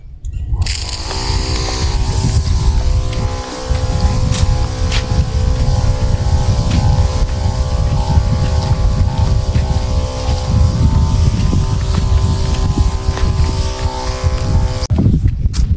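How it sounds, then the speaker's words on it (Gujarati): Motorized pesticide spray pump running steadily, a loud continuous engine whine with a constant tonal hum and slight rough rattle, starting and stopping abruptly. "બીજો હું પંપ ચાલુ કરી નાખું."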